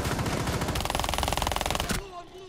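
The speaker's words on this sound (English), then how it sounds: "Shoot through the wall, Ethan." Automatic gunfire in Rainbow Six Siege rattles as a fast, loud, evenly spaced burst for about two seconds, shooting through a wall, then cuts off abruptly into quieter game sounds.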